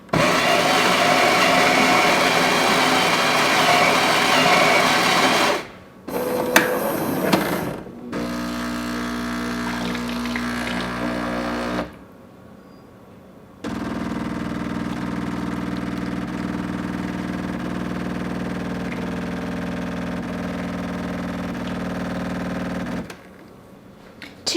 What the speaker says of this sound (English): we're gonna start with one single espresso.